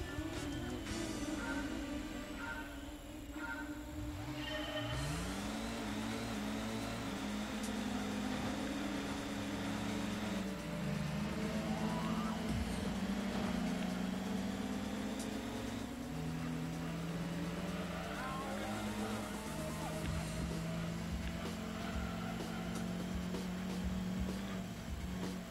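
A Corvette engine revs and shifts through gears while racing in Gran Turismo 2, its pitch repeatedly climbing and dropping at a steady moderate level, with no talking.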